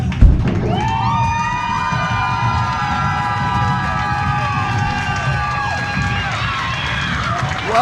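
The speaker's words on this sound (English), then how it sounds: "You still hear the crowd tonight." A pro wrestling event crowd cheers and roars steadily throughout, close and dense, with a thump at the start and a sustained musical tone layered over the noise.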